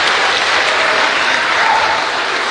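Loud, dense applause from a church audience during a Christian sermon on youth in the digital age, many hands clapping in a sustained, even roar from start to finish.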